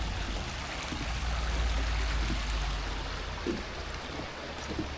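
Stream and waterfall flowing beside a North Georgia hiking trail, a steady broadband rush of water, fairly quiet and continuous with no voices.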